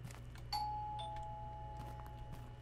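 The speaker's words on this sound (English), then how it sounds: "Ding dong!" A doorbell in the horror video game The Floor is Breathing gives a clear two-tone ding-dong, the second note following about half a second after the first and ringing out over a faint, steady low hum.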